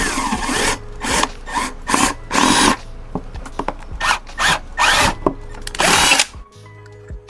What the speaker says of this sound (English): I'm going to need to drill out this plate